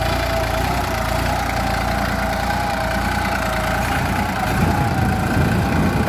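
A New Holland 3230 Super Plus 45 hp tractor engine idles at 1200 RPM, producing a steady, loud mechanical drone that holds even throughout, with no talking over it.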